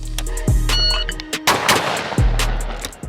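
Two loud, sharp shotgun blasts from a Tristar Setter over-under 12 gauge, fired in quick succession about 1.7 seconds apart, each with a booming tail that rings out across an open outdoor range.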